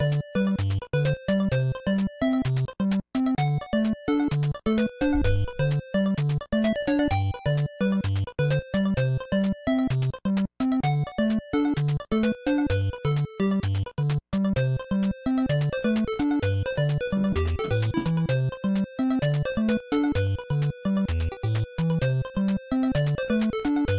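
Fixed version of a StarTropics video game song plays as steady chiptune music, crisp square-wave melody over pulsing bass notes in a regular rhythm, continuous and even for the whole stretch with no voices.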